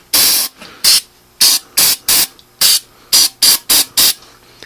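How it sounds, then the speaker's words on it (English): Aerosol can spraying onto a Cushman with no spark that won't fire, about ten short, loud bursts with brief pauses between them, a sharp close-up hiss with nothing else in between. "I'm just spraying a little."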